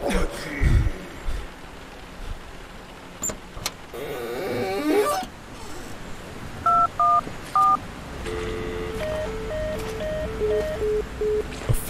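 Phone keypad dialing in a horror video game, a short burst of two-tone button beeps followed by a run of evenly spaced tones, loud and close, with other clicks and a rattling mechanical sound before it.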